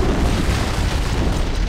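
A heavy, rumbling blast from an antimatter charge detonating aboard a ship in a Halo: Combat Evolved cutscene, a loud continuous boom with deep low-end roar filling the whole moment.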